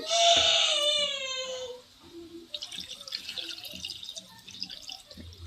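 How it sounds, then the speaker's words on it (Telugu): Raw chicken washed in salted water in a kitchen, with running water and soft splashing and dripping in the second half, preceded by a loud high-pitched wail at the start. "చికెన్ తీసుకొని నేను కడుక్కునేటప్పుడు కొంచెం ఉప్పు వేసుకొని అయితే కడుక్కుంటాను నేను"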